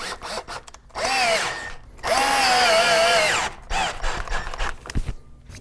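A power drill fitted with a ground-down Allen key drives a threaded insert into wood for an all-wood takedown bow, whirring in two close bursts of revving, winding down between, followed by rattling handling noises.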